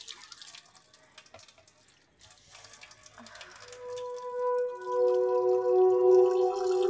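Water starts running from a household tap, first scattered drips and splashes, then a steadier stream that grows louder and fuller as it flows.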